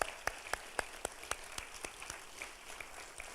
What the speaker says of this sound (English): would you just stand for a moment so we can give you a round of applause?